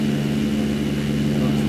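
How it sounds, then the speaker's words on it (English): A propeller airplane droning steadily in a flight simulator video game over Philadelphia, a continuous low engine hum with strong harmonic tones, fairly loud and unbroken throughout. "look at that plane over there"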